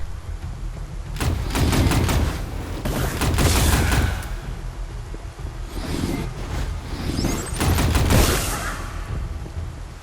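Bursts of gunfire from a weapon fired at hostiles made of corruption in the video game Otherskin, coming in several loud rapid volleys separated by short pauses, with some lighter effects between.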